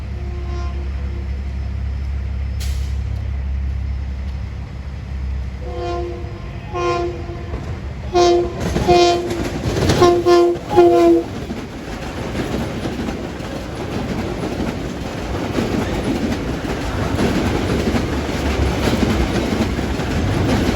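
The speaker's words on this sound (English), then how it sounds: "Westbound that's coming is train 1205, runs between Hicksville and Penn Station" Westbound commuter train 1205 from Hicksville to Penn Station arrives at Nassau Tower in Mineola: a low rumble builds, repeated loud horn blasts sound midway, then close wheel clatter and rolling noise carry to the end.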